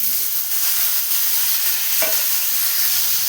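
Curry leaves and coriander fry in a pan with a loud, even sizzle throughout and a single stirring scrape midway; nobody speaks.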